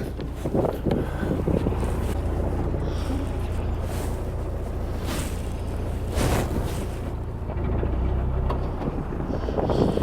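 Steady wind buffets the microphone and roars around a narrowboat waiting at a canal lock on the Buckby flight, with gusts swelling and fading throughout and a low boat rumble underneath.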